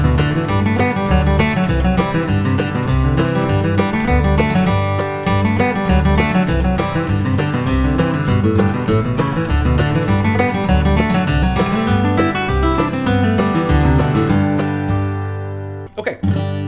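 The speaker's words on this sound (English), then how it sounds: "I'm going to throw this lick into a very famous fiddle tune that I'd say a lot of y'all watching this know," A fiddle plays the bluegrass tune Blackberry Blossom with a floating lick worked in, loud and close in a steady run of quick bowed notes that stops abruptly near the end.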